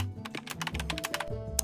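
Quiet typing on a computer keyboard while entering a recipient's name and details, a quick run of about a dozen light key taps, close and faint, with no voices.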